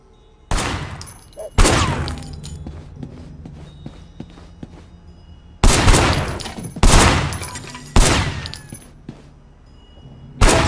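Loud, close gunshots ring out in the Sleeping Dogs video game, about six sharp blasts at irregular intervals, each with a short decaying tail, over a quieter background.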